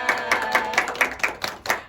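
An audience at a youth talk session claps for a guest, a quick run of about eight crisp, evenly spaced claps at moderate loudness, heard without talk.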